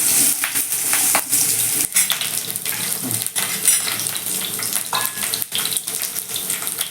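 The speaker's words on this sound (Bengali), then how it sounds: "আলুগুলোকে উল্টে পাল্টে একটু লাল লাল করে ভেজে নেব" Potato pieces are turned and fried in oil in a pan, giving a continuous close sizzle broken by irregular scraping and stirring clatters, with no talking.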